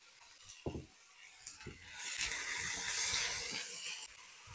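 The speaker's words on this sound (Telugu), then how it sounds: "ఇప్పుడు ఇదే నూనెలో మనము కట్ చేసుకున్న ఆలు ముక్కల్ని వేసుకొని ఫ్రై చేసుకోవాలి." Cut potato pieces sizzle and hiss in hot oil in a home kitchen pan, a steady bright frying noise swelling after a few soft clinks and settling at moderate loudness.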